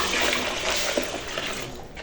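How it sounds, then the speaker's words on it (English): Dissolved SLS mixture being poured into a liquid soap batch, a steady close splashing, gushing pour that runs without a break and stays fairly loud throughout, with no voices. "you're going to pour this dissolved SLS mixture"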